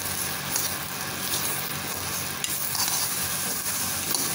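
Mint leaves and masala sauté in hot oil in a pan for an egg kurma, with a steady soft sizzle, faint crackles and occasional stirring scrapes throughout, fairly quiet and close.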